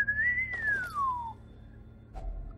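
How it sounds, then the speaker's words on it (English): A single clear whistle in Darkest Dungeon rises slightly then glides downward over about a second, followed by quiet and a soft thud near the end. "Whistles."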